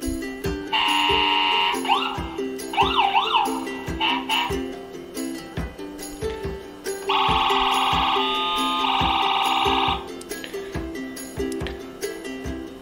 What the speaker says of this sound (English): And they have sirens.